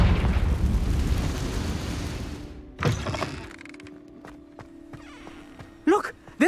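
Confringo spell blast in Hogwarts Legacy on PS5, a loud rumbling explosion that decays over about two seconds, followed by clattering debris, mechanical creaks and a couple of sharp magical whooshes near the end.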